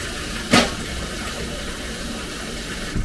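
Kitchen tap water running while dishes are washed, a steady close rush of flowing water with a brief louder splash or clatter near the start and no talk.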